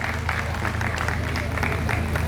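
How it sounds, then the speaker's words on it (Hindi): Steady, dense applause comes from an audience after a children's church play, a continuous wash of clapping at even volume with no voices standing out. "जोरदार तालियां बजाएंगे इस खूबसूरत प्ले के लिए जो बच्चों ने आपके सामने पेश किया"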